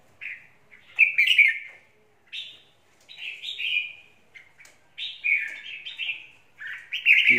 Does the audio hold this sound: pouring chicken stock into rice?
no